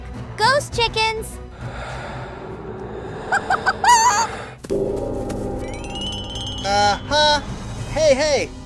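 Toy chickens cluck and squawk in short bursts amid sighs, gasps and excited voices during children's pretend play, with a rooster-like call rising near the end.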